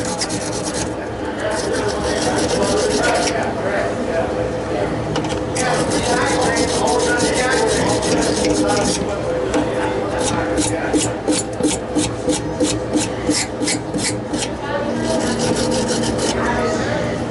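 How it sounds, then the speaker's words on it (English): A stainless steel wire brush scrubs metal before brazing, giving a continuous close rasping scrape with quicker rhythmic strokes toward the end. "These are stainless steel bristles on this."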